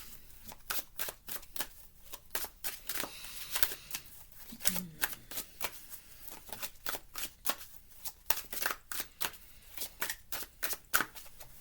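Tarot cards are shuffled by hand in quick riffling bursts, crisp close flicks and snaps repeating in a steady rhythm throughout, alone with no talk.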